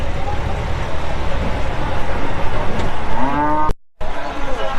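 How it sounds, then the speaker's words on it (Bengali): Cattle moo loudly and close by at a busy cattle market in Ashulia, with several drawn-out lowing calls over a dense crowd murmur and market bustle. "আশুলিয়া হাটে আজকে সব পাগলা গরু।"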